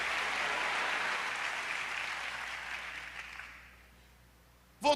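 A church congregation claps warmly for the Lord, a full burst of applause that fades away into near silence, followed by a short sharp knock at the very end.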